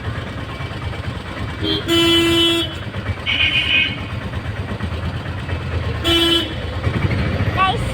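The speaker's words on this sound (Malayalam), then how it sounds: "ഓട്ടോറിക്ഷ ഓടിക്കാം." An auto rickshaw drives toward a railway station through traffic, its engine droning steadily as two short horn toots sound a few seconds apart, with other vehicles around.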